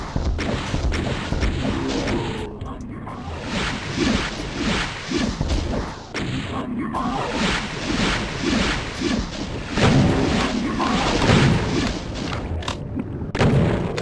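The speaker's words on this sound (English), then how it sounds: "We do have some rockets we can use here." Rocket launcher explosions from Doom 2, played on the Rural Only map 11, The Arkham Property: loud, dense booms and crashes stacked with whooshes and game noise, continuing steadily throughout with no talk over them.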